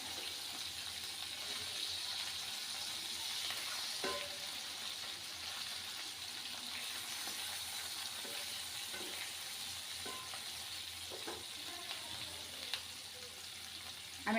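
Hilsa fish wrapped in leaves fries uncovered in a pan, giving a quiet, continuous sizzle with occasional soft clinks and stirring sounds.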